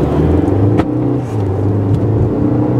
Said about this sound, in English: The engine is very whiny